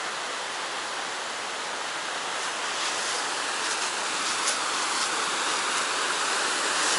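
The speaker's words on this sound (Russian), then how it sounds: "Вот это вторая речка" Steady broadband rushing of a mountain river in Chechnya fills the whole stretch, loud and even, like a fast stream nearby, with no talking.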